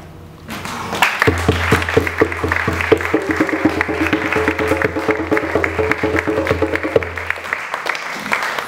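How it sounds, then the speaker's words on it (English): Audience applause at a book release event for the writer Mega, with dense clapping that starts abruptly, holds steady and loud for several seconds over a low sustained musical tone, then thins out toward the end. "Get another round of applause for Mega"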